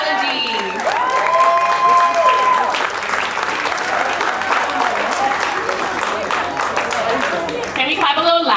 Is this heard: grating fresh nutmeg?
no